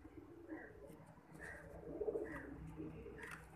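Pigeons coo in soft, low repeated phrases, close by and fairly quiet, with a steady rhythm over light background noise.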